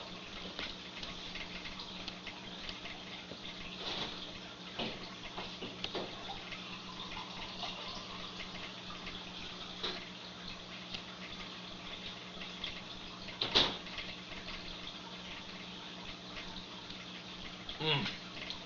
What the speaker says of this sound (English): let me go and refill my water